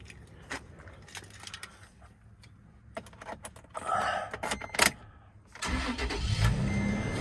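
A 2013 Toyota Tacoma TRD Off Road pickup with 40,000 miles, a clean one-owner truck, has its keys jangle before the engine cranks and fires, then settles into a steady, fairly close idle.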